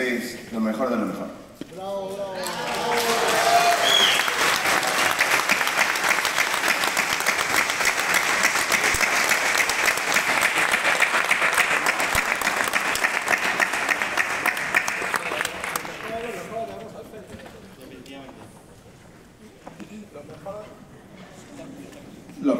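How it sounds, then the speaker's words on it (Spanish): Live audience at a Spanish-language seminar breaks into loud, dense applause that swells after a few seconds, holds steady for about twelve seconds, then fades into scattered claps, with a voice speaking before and after. "Un aplauso para ustedes."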